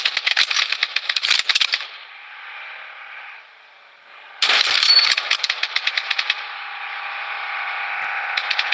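Rapid automatic gunfire in the battle royale game Blood Strike: two dense bursts of rattling shots, with a lower, steadier hum between them and under the second burst, loud and close.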